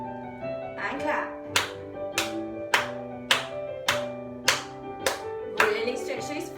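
Hand claps from a ballet class, roughly eight sharp claps in a steady rhythm, played over piano music. A teacher talks over them at times.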